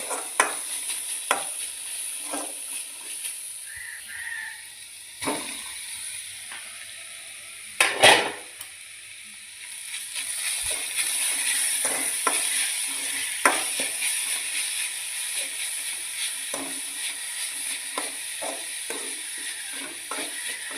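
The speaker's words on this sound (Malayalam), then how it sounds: "എല്ലാം കൂടെ നന്നായിട്ടൊന്ന് മിക്സ് ചെയ്യും" Winged bean thoran stirred with a ground spice paste in a frying pan: intermittent scraping clicks of a spoon against the pan over a soft, steady sizzle that grows fuller in the second half, with no talking.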